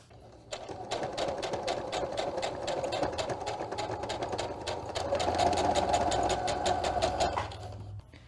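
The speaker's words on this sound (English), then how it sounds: "now we're just gonna sew along those lines with the sewing machine" A sewing machine runs steadily for several seconds, its rapid needle clatter ticking evenly over a low motor hum before stopping.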